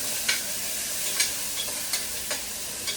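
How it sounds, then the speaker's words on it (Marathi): Mutton sautés in hot oil with a constant close sizzle, broken by a few sharp scrapes from stirring spaced roughly every half second, moderate in level with no voices. "तेल मस्त गरम झालं. परतून घेऊया आपण मस्त."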